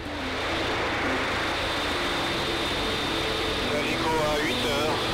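A Rega rescue helicopter from the Lausanne base drones overhead during a winching exercise, a loud, steady engine roar that holds throughout, with faint chirping tones rising late.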